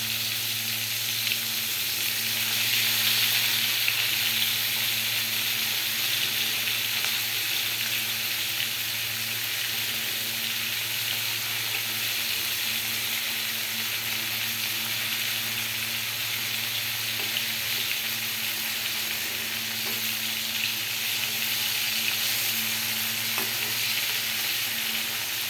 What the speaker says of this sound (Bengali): ভাজা চলছে।